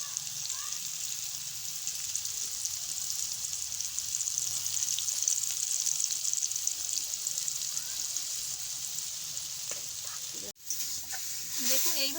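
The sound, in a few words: potatoes and jackfruit frying in a pan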